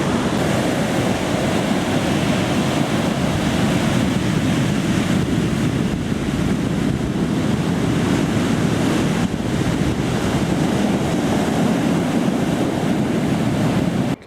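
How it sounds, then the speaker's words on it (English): Steady roar of ocean surf on the remote west coast of New Zealand's South Island near Haast, loud and continuous with heavy wind buffeting the microphone throughout. "it's nice to be by the ocean."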